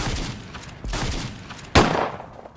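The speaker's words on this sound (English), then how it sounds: "We then proceed to get shot several times while trying to do the Vortex Pillar." Gunfire in the Terraria video game during a Master Mode fight at the Vortex Pillar, with rapid bursts of shots and impacts layered over game music and ending in one louder close hit.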